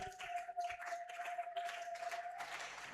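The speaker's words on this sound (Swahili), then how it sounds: "Pigia Yesu makofi mazuri" Church congregation clapping for Jesus during a Sunday service, a brief burst of faint, scattered hand claps with a sustained tone held beneath.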